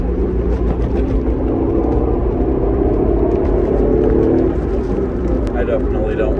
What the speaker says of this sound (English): Go, give it some gas,